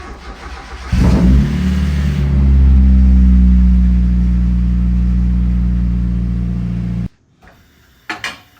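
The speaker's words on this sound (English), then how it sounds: "startup procedure in the race car. Battery on, ignition on, clutch in, hold down the button." A race car engine cranks and fires into a loud, close idle rumble that swells and then holds steady for several seconds before cutting off sharply, followed by brief faint clatter.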